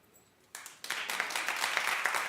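A studio audience bursts into applause at a talk show, the clapping starting abruptly and swelling into steady, dense applause that carries on to the end.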